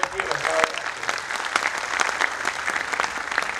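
Members of an urban cooperative credit society clap at its annual general meeting with a musical night, producing a sustained burst of crowd applause, loud and fairly close, with a voice faintly heard at the start.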